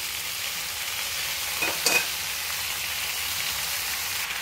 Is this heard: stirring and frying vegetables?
yes